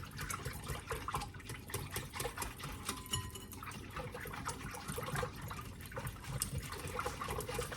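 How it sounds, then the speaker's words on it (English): Eggs, vanilla extract and other batter ingredients for French toast being whisked in a bowl, giving a steady, close, rhythmic sloshing and clicking that runs throughout with no talking. "so you're gonna go ahead and whisk that all together."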